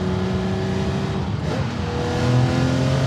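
A Singer DLS restomod Porsche 911, a £2 million build with a 9,300 rpm engine, revs while driving: a steady loud engine drone whose pitch drops at a gear change and then climbs again.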